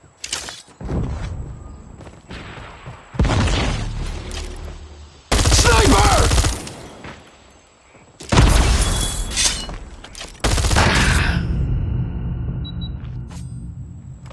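Grenade blasts and gunfire in a Call of Duty Mobile search-and-destroy match, with loud booming explosions and dense bursts of rapid shots in several heavy blocks, some ending in long rumbling decays.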